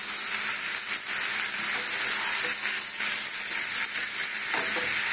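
Chillies and mustard seed tempering frying hard in a wok, a loud continuous sizzle with crackles and occasional stirring scrapes, no talking.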